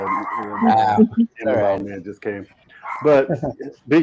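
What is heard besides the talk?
dog barking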